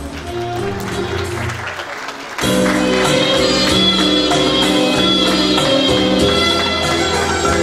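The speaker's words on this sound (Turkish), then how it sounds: "Kuvvetli bir alkış alabilir miyiz kendileri için?" Audience at a wedding-style celebration applauding over loud music, the clapping rising sharply partway through and staying strong and steady to the end.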